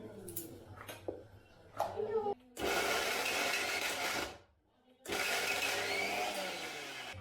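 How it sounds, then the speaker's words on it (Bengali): A kitchen grinder runs in two bursts of about two seconds each, lightly grinding squeezed-out soya chunks into a mince for vegetarian kofta, after a few brief clattering handling sounds. "সব সয়াবিনগুলো জলটা নিংড়ে নিয়েছি। এটাকে এখন আমি হালকা গ্রাইন্ড করে নেব।"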